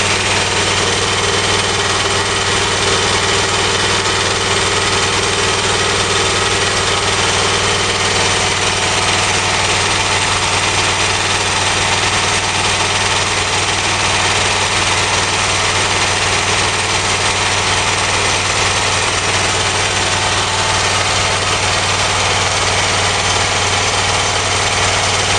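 An engine fitted with an automatic mixture controller runs steadily for the whole stretch, a continuous, fairly loud drone with no voices over it.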